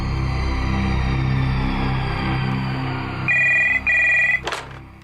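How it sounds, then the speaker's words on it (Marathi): A telephone rings on an outgoing call to a home phone in a Marathi family drama, two clear electronic ring bursts in steady rhythm near the end, loud over a low background hum. "मी मायाताईंना घरी फोन लावते."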